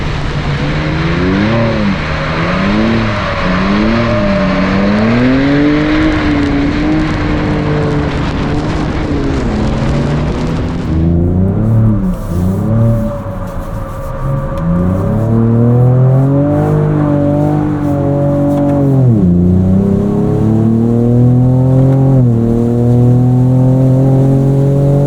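2024 Ford Ranger Raptor engine revving hard while drifting on a track, loud and close, with repeated rising and falling revs, a gear change partway, then a sustained climbing pull.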